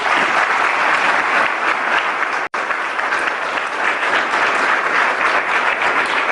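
A large audience claps continuously at an event, a steady dense wash of applause with one brief dropout partway through, no voices on top.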